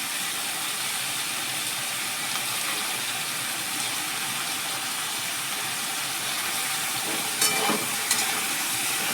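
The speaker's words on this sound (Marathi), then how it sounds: "हे वांगं आणि बटाटा ह्या कांदा टोमॅटो आणि तेलामध्ये फ्राय करून घेते" Brinjal and potato fry with onion and tomato in hot oil, a steady, even sizzling hiss running throughout, with a couple of brief utensil clinks near the end.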